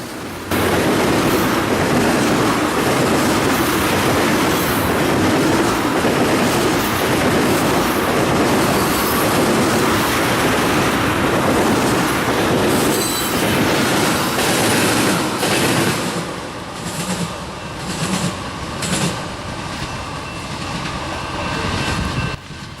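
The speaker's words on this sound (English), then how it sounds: "The last train we caught here was a westbound CSX intermodal train as it passed by the old B&O depot." A westbound CSX intermodal freight train rolls past an old B&O depot, a loud continuous rumble of wagons with rhythmic clickety-clack and faint wheel squeal, easing slightly toward the end.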